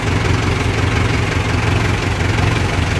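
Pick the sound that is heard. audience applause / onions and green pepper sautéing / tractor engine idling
tractor engine idling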